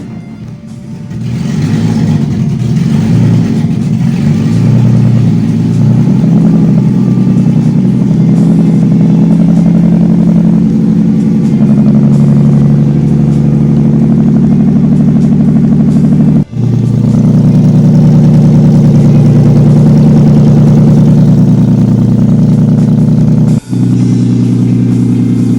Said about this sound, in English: start the car up with open exhaust